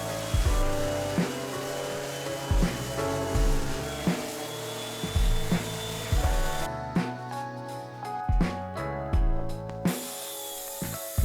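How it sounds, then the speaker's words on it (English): Edges of a walnut slab are cleaned up with a power tool in a basement woodshop, repeated bursts of grinding and scraping starting and stopping in an uneven rhythm, close and moderately loud. "Here you see I'm cleaning up the edges to ensure that the epoxy bonds to the slab."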